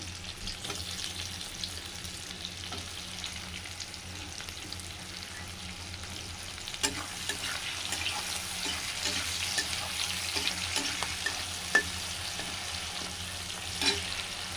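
Long-sliced onions fry in a pan of oil with reddened garlic, giving a steady low sizzle with scattered stirring scrapes and taps, fairly quiet and without voices.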